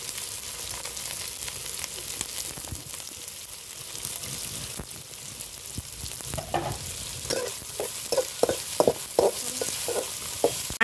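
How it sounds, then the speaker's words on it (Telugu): Curry leaves, capsicum and green chillies fry and get stirred in a pan alongside finely shredded cabbage, a steady sizzle broken in the second half by a run of sharp, rhythmic scraping clicks from the stirring. "ఇవన్నీ లైట్గా ఫ్రై అవ్వాలి."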